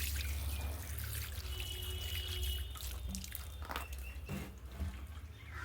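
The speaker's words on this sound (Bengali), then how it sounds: "গাছ করে জল দিয়ে দিচ্ছি ভালো মতো" Water pours onto a newly planted money plant in packed soil, a faint, continuous trickling and dripping spread out over several seconds.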